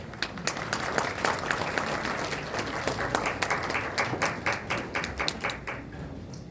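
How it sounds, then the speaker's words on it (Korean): An audience at a university graduation ceremony claps to welcome the university president forward, a sustained round of moderately loud applause with individual sharp claps that thins out toward the end. "총장님을 큰 박수로 앞으로 모시겠습니다"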